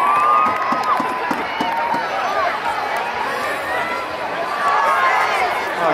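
Spectators at a school rugby match shout and cheer for their team, a lively mix of high young voices and whoops across the ground, fairly loud and sustained with scattered claps.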